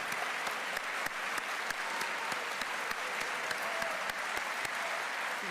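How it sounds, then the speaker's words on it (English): A large audience at Atlanta's State of the City address applauds labor leaders, a steady, full wash of clapping holding at even volume from start to finish without talk. "Would you all please give them a round of applause for their efforts"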